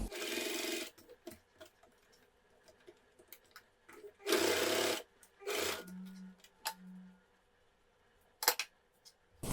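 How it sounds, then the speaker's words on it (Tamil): A sewing machine stitches elastic onto women's cigarette pants in short, intermittent bursts of whirring motor and needle clatter, separated by quiet pauses and small handling noises, close and clear with no talking. "இந்த சைடுமே நம்ம எலாஸ்டிக் முடிகிற எடுத்துட்டு 2 ஸ்டிச் அது மாதிரி போட்டுக்கலாம்"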